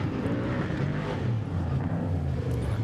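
An older 6100-class trophy truck races in the Finke desert race prologue, a loud, close, throaty engine roar that holds steady and continuous over a few seconds, with a rumbling low pulse throughout.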